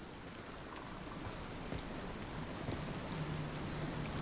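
Waterfall in a wild, forested wilderness setting, a steady broadband rush of falling water with no breaks, fairly distant and even in level throughout.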